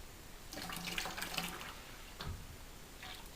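Fruit concentrate for homemade wine pours into a container in splashy, gurgling bursts, fairly quiet, with a short pause between pours.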